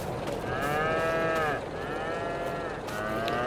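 Cows in the Farming Simulator 22 video game give two long, drawn-out moos over steady farm ambience with no talk.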